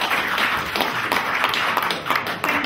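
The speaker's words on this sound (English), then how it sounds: "You can clap." An audience in a parliament hall claps steadily for a few seconds, a dense, fairly close patter of many hands that holds at an even level throughout.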